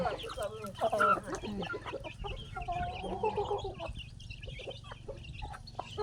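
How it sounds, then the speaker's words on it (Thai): Chickens at a garden farm cluck and chatter busily while being fed, with several birds close by and the calls overlapping in bursts above a low background hum. "ให้อาหารไก่ค่ะ"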